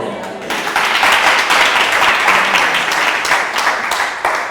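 A congregation at a prayer service claps and cheers loudly and steadily, acclaiming God, with voices mixed into the dense, continuous applause.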